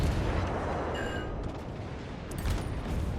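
Bombs striking a ship in World of Warships Legends, a dense rolling barrage of low booms and blasts with some metallic ringing partway through, loud and continuous for a few seconds with no speech.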